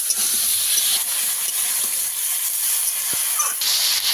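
Fish fries in a hot pan with an oil sizzle that hisses loud and constant, broken by a few faint stirring scrapes and clicks.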